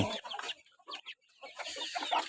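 Busy clucking and short throaty calls from a ten-month-old Burmese game rooster, close by and fairly quiet, with brief pauses between bursts.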